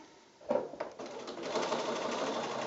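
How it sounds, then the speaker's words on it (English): Sewing machine stitching a straight 1/4 inch seam along quilt fabric squares, starting with a couple of short bursts and then running steadily at close range. "we're just going to sew along this straight edge, the short straight edge here"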